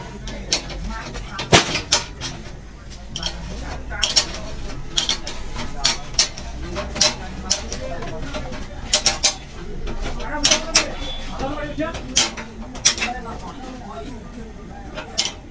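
A sewing machine stand mechanism, freshly tightened and never oiled, turns with faint repeated clicks, ticks and light metallic rattles, interrupted by sharper knocks as someone talks over it throughout.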